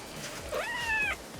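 A pet cat gives one drawn-out, complaining meow, close and fairly soft, alone in a quiet room.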